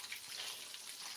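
Fish fries in a pan for a breakfast meal, giving a steady, dense sizzle that stays close and even throughout without any voices.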